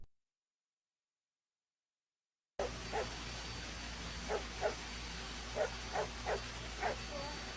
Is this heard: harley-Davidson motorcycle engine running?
no